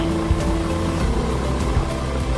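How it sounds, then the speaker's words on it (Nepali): A scooter climbs an uphill road with a steady, droning engine hum and rumble close by, and no one speaks. "स्कुटी आइरहेको माथि अप्पर गएर फर्केको स्कुटी है यो"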